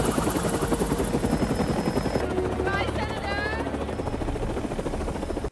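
In a film scene before a crash, a helicopter's rotor beats in a fast steady chop under a narrator's voice, with the loud thumping continuing until it cuts off abruptly at the end.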